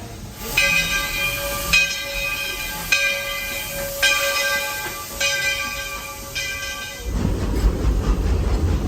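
A steam train on the Walt Disney World Railroad at Magic Kingdom, Orlando, chuffs along in a steady rhythm, each puff carrying a bright whistling tone, before a broad rushing hiss takes over at the end.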